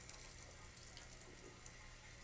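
Water splashing onto a horse's feet during a bath, a steady, faint hiss of running spray that continues without a break.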